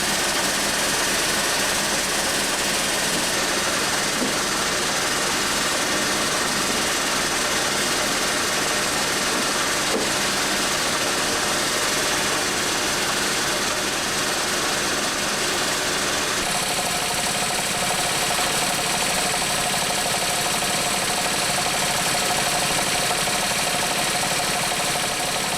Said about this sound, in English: Jim Rich is over there operating a machine that cuts the cap off so that the honey will flow out